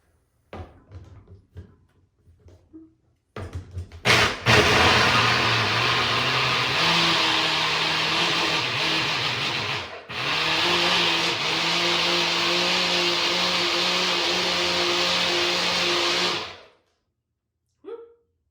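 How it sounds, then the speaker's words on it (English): Blender whirring on a skin smoothie with water: after a few clicks and thumps it roars loud and close for about thirteen seconds, briefly dipping midway, then cuts off abruptly. "So I'm gonna blend this up. Might get loud."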